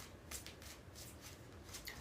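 Tarot cards shuffled by hand give soft, quick riffling bursts in a loose rhythm, close but faint, with no talking.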